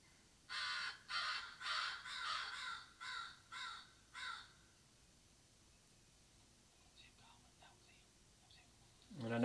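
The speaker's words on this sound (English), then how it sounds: "we get down here and we get these obnoxious crows" Several crows caw in a rapid series of harsh calls, moderately distant, during a turkey hunt, followed by quiet and a faint whisper.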